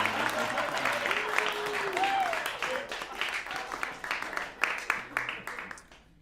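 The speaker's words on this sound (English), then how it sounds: "Everyone give a round of applause for my mom." An audience at a stand-up comedy show applauds the comedian's mother: a dense wash of clapping mixed with crowd murmur and a few raised voices, which thins out and fades toward the end.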